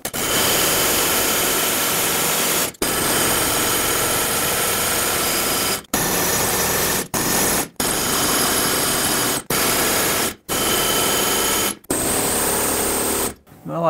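Air hammer pounding on a rusted, stuck front lower control arm bolt of a 2007-2014 Chevrolet Silverado 2500 HD. Loud, close, continuous rapid hammering comes in long bursts separated by brief stops.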